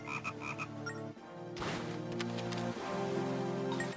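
Frogs croak in The Legend of Zelda: Phantom Hourglass, a steady run of repeated game-style croaks over a continuous musical background, loud and close with no talk.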